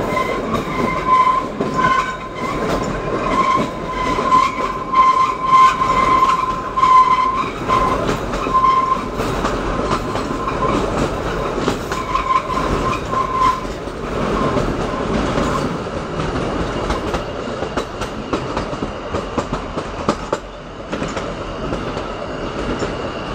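Kalka–Shimla toy train running along a winding mountain track, a steady close rumble of wheels and carriages with a sustained metallic squeal as it rounds curves, no voices.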